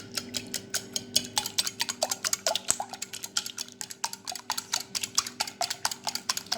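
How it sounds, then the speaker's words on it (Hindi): A whisk beats eggs in a bowl for a spinach and oats omelette, a fast, steady run of light clinking taps against the bowl's side, close and clear with no talking. "इसको मैं अच्छी तरह फेंट लूँगी"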